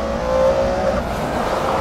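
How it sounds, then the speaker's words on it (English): McLaren F1 supercar under full throttle in second gear from just over 2000 RPM, a loud, steady engine roar with a rising tonal whine, heard from inside the car without talking. "So this is second gear at just over 2000 RPM. I don't know if it'll take full throttle, I think it will."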